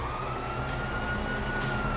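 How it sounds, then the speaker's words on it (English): A police siren wails steadily in a Grand Theft Auto game, a continuous high tone sitting over low engine and traffic rumble at moderate volume, with no talk. "you hear that? Sirens."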